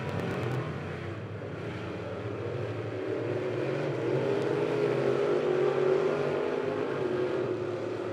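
Race cars circling a dirt speedway during a heat race, engines droning steadily as the pack bunches up under caution before the green flag, a broad continuous roar that swells slightly midway and holds, with no talk.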